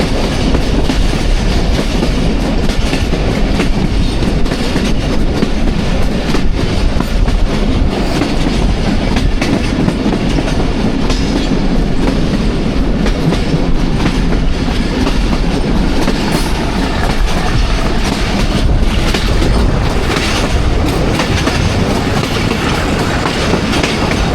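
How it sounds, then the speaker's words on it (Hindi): Thall Express passenger train running on rails on a daytime journey between Jand and Multan Cantt, with a steady loud rumble and clickety-clack of wagon wheels throughout, no voices. "तो 11:45 में तब रेलवे स्टेशन पहुंच गई है जी 130 डाउन खाला एक्सप्रेस"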